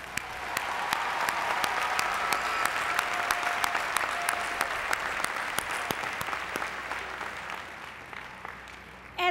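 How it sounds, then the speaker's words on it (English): A large commencement audience at Montgomery College's 2015 graduation applauds the students, a dense, steady roar of many hands clapping that holds for several seconds before tapering off near the end. "Let's give these students another round of applause."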